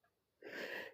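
A single quiet human sneeze bursts out after a faint intake of breath, brief and breathy, with no talk during it.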